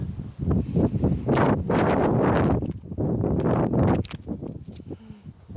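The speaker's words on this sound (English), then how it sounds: "It's really windy and the wind is really cold actually" Strong, cold gusty wind at Lulworth Cove, Dorset, buffets the microphone in loud rumbling bursts, rising and falling over a few seconds.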